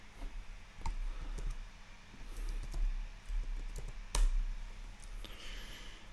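Quiet, irregular clicking of keys being typed on a computer keyboard at a desk, soft taps scattered over a low room hum with a couple of sharper key strikes.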